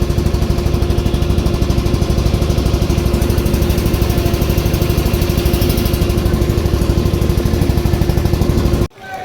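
A river boat's engine chugs loud and close with a steady, fast mechanical throb lasting several seconds, then cuts off abruptly at the end.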